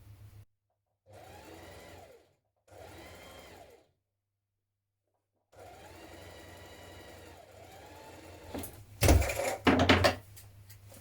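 A sewing machine runs a zigzag stitch along a white T-shirt seam with a small stitch width, in three bursts of steady whirring separated by pauses, the last run ending in louder clunks and rattles.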